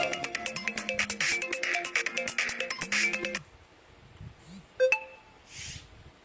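A mobile phone ringtone plays loudly during a public speech at a rally, a repeating electronic melody of bright beeping notes lasting about three seconds before it cuts off, followed by quieter background sounds.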